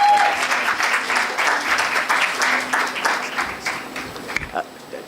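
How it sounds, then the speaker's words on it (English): A large audience at a women and youth leadership summit breaks into loud, sustained applause that runs steadily before thinning out near the end, with a faint voice briefly audible. "A huge round of applause, please."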